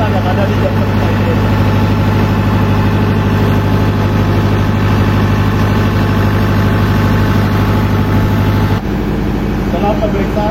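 A diesel generator set at a diesel power plant runs loudly and close, a constant deep engine drone with steady hum and vibration, while a voice speaks over it.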